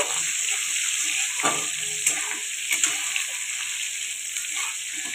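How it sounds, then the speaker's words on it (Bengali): Oil hisses and crackles steadily as dried fish fries in plenty of oil in a pan, with a few soft clinks and stirring sounds over the constant sizzle. "দেখো ভালো করে ভেজে নেওয়া হচ্ছে, বেশি করে তেল দিয়ে।"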